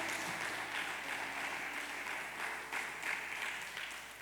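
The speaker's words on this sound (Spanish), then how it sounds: "dele palmas al Rey" Steady applause from a church congregation fills the room at Sunday service, a dense wash of many hands clapping at moderate, even volume throughout.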